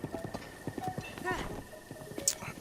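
Horse hooves clip-clopping at a steady gallop while riding in Zelda: Breath of the Wild, a rhythmic run of soft thuds under game music and a brief neigh, with someone talking over it.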